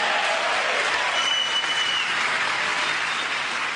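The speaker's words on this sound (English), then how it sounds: "Again, half a standing ovation because the Democrats wouldn't dare stand up and cheer for that." Sustained applause from a large audience at a political speech, some standing, a dense steady roar of clapping that holds at an even level without any voices rising above it.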